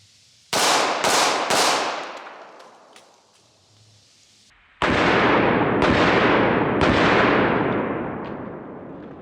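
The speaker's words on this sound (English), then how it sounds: "we'll go ahead and do a mag dump with the 1911" Rapid shots from a single-stack 1911 pistol emptying an eight-round magazine, loud close bangs in two quick bursts, three then four, separated by a short pause, each crack trailing off in echo.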